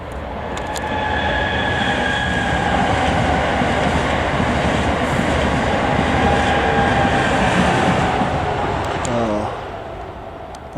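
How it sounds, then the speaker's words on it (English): A train passes at a distance outside near a tent, a long steady rumble and clatter that swells and holds for several seconds before easing off, with faint high squeals near the end. "There's the train. I knew I heard it."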